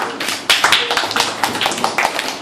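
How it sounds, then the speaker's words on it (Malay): A classroom of pupils claps hands in uneven, loosely grouped bursts, with sharp close claps starting abruptly and continuing irregularly. "tepuk tangan untuk semua"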